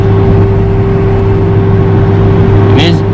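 Steady car engine and road drone from inside a car accelerating hard toward 100 km/h on a quiet Trans-Java toll road, running on Accelera Eco Plush tyres at about 3100 RPM; continuous loud hum with no talk.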